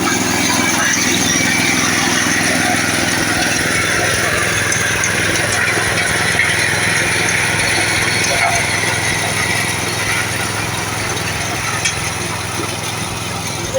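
A hybrid walk-behind tractor tills fallow soil thick with weeds, its engine droning loud and steady without a break from up close.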